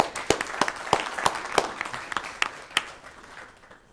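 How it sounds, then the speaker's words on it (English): A small audience at a city council study meeting claps in sharp, distinct strikes, roughly evenly spaced and fairly near, thinning and fading out toward the end. "One more round of applause."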